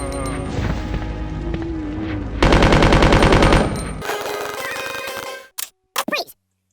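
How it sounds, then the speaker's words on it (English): Machine gun firing in the video game Resident Evil 2, loud rapid bursts of automatic fire in long continuous strings, then cutting off into a few short final shots. "I'm just going crazy with the machine gun."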